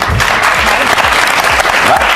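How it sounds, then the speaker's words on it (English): Lecture audience at a hospital wellness talk on meditation applauding, a loud, close burst of dense clapping from a crowd that holds steady for the whole stretch. "if you've ever meditated to deal with stress, please applause"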